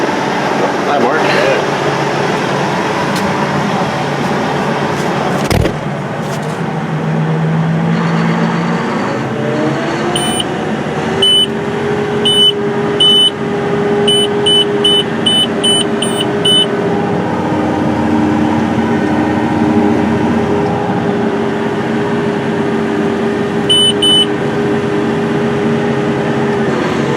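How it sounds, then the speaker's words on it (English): Steiger 420 high-horsepower tractor running steadily, heard from inside the cab during row crop work in a corn field, with a constant engine drone, some rising tonal shifts and a few short electronic beeps. "In the cab of the 420 Steiger, and it is continuing to do row crop work."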